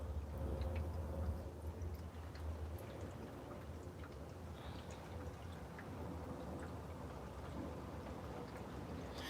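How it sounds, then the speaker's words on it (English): Steady rain falls outside a camper van at night in Marin, a soft, even patter and hiss that stays faint and continuous throughout with no voices. "It's not storming. It's raining."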